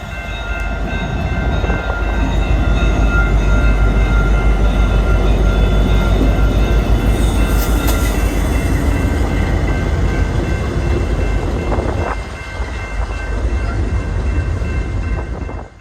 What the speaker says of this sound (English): Typically trains like 122 would be flying through here, however, 122 passed through at an extreme slow pace.